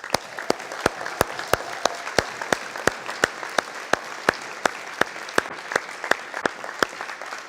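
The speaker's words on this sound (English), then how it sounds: "Let's give them another round of applause." Steady, sharp claps from a gala audience at a charity benefit, fairly sparse and evenly spaced, each hand strike distinct and close.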